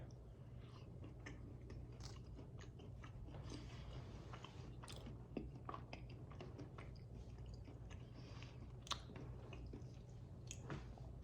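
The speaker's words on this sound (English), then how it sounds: "I'm gonna have another bite." Close-up biting and chewing of a Reese's Crunchy peanut butter candy, with a steady run of wet mastication, small crunches and clicks over about eleven seconds, no talking, and a low constant hum in the background.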